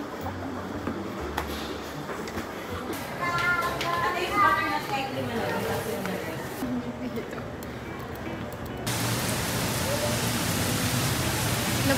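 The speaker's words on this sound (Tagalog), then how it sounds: "Nabutan po kami ng ulan." Rain falls outdoors as a steady broadband patter that swells into a heavier, denser downpour toward the end, with people talking over it earlier on.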